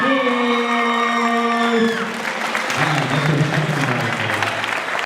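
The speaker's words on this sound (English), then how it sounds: "Make some noise for Anthony one more time." A poetry slam audience applauds and cheers loudly and steadily, with whoops rising above the clapping, after a sustained tone fades out.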